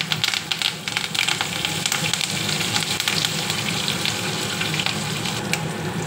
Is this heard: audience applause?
no